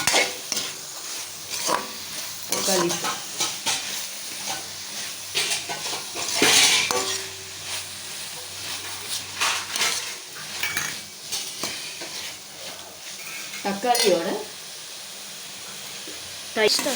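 Tomatoes fry and are stirred with softened mint in a pan for mushroom biryani, with a continuous sizzle broken by repeated scraping and clinks of a spoon against metal; a voice talks at times over the cooking.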